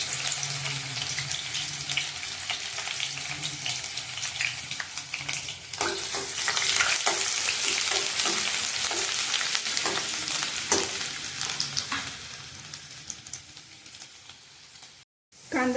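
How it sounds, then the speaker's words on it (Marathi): Finely chopped onion frying in oil on a medium gas flame, a steady close sizzle with scattered stirring clicks and scrapes, running alone without talk. "बारीक चिरून घेतलेला कांदा तेलात चांगला आधी भाजून घ्यायचा आहे"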